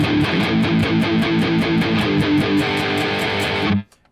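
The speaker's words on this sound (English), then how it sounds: "you start to stop palm muting and open it up a little bit. So it sounds like this" Distorted electric guitar power chords from a metal song, palm muted and then opened up, played alone: a loud, dense, steadily pulsing riff that chugs for nearly four seconds and then cuts off abruptly.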